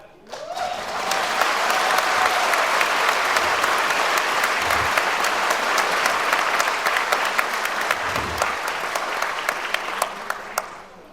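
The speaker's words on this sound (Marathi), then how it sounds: "छत्रपती शिवाजी महाराजांचं नाव आल्यानंतर टाळ्या कशा झाल्या पाहिजेत" An audience at an entrepreneurs' gathering breaks into loud, sustained applause, many hands clapping together close by and continuing for the full stretch.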